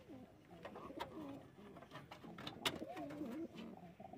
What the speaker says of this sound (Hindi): एक मादी पायरा